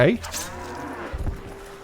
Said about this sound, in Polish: nareszcie krowy sprowadzają